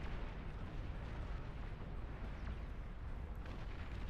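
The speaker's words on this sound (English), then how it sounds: "Long range napalm launcher spotted." A long-range napalm launcher in a video game unleashes a continuous, heavy roaring rush of fire, dense and unbroken for the whole stretch, without distinct separate shots.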